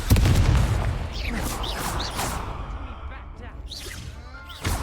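A Confringo blasting spell from the Hogwarts Legacy video game goes off as a heavy boom at the start, followed by crackling bursts, sparkling pops and another blast near the end, with some vocal sounds mixed in.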